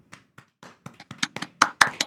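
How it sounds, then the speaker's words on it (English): Podcast hosts clap a round of applause, about a dozen sharp hand claps, sparse and uneven at first, then quickening and growing louder toward the end. "I just want to give a good round of applause for Harry"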